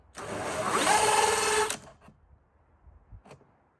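Power drill with a hole saw bit boring a hole while installing an Extendo-Vent, a loud whirring, grinding run of about a second and a half that stops abruptly, followed by faint handling knocks.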